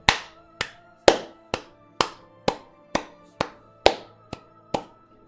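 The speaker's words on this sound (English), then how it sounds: "you start to hear some clapping" Slow, deliberate clapping from a single person in a room during a Dungeons & Dragons tabletop session, about eleven sharp claps evenly spaced roughly half a second apart, close and distinct against near silence.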